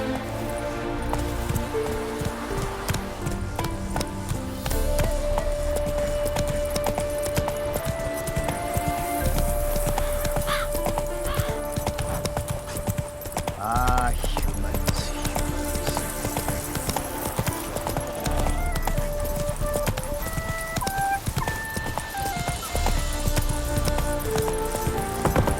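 Roach the horse galloping in The Witcher 3, a steady, rhythmic clip-clop of hooves running continuously beneath a loud orchestral music score.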